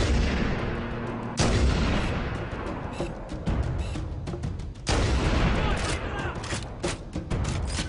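Heavy gunfire from the Halo Anniversary video game, loud and close, with booming blasts and rapid bursts layered over one another throughout.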